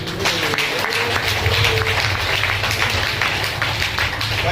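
An audience claps at a Shri Krishna Janmotsav celebration and Bhagwat Katha gathering, a moderate, steady patter of applause lasting several seconds under a faint background hum.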